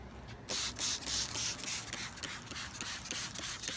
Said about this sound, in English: Spray the window.